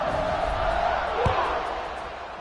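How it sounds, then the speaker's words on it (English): A stadium crowd roars steadily in a college football video game between LSU and Missouri, a dense, continuous wash of cheering that swells briefly midway, with a commentator's voice faintly underneath. "this crowd now ready to get behind them"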